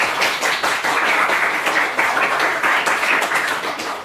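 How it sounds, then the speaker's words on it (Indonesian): Classmates clap for a student presentation group in a classroom, a lively burst of uneven hand claps from a small group that stays close and fairly loud for a few seconds, with no talking over it. "Tepuk tangan untuk kelompok 2"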